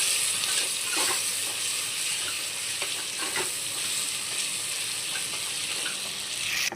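Onions with ginger and garlic frying in oil in a pan, a steady close sizzle with occasional stirring scrapes and clinks throughout.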